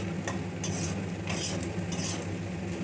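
Chicken and onions being stirred in a frying pan, with a steady soft sizzle and repeated scraping strokes of a spoon at an even rhythm, no voices.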